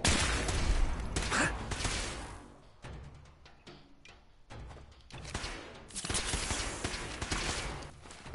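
Gunfire in Fallout 4 crackles in bursts of rapid shots, loud at first, then thinning into scattered cracks before swelling again near the end.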